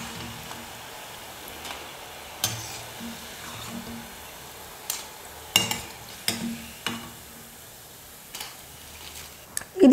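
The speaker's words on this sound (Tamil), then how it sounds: "இதே போல் மீதி இருக்கிற எல்லா மாவையும் எண்ணெயில் போட்டு பொரிச்சு எடுத்துக்கலாம்" Bonda lentil fritters deep-fry in hot oil, a soft crackling sizzle with scattered sharp clinks and scrapes of a utensil in the pan, fairly close.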